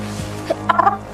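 A rooster squawks in a quick burst of loud, harsh clucking calls near the end, after a brief faint sound at the start, with no talking.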